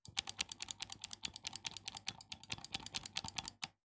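Buttons on a new Cammus sim racing steering wheel are pressed repeatedly, producing a rapid, uneven run of crisp, close, satisfying clicks with no talking.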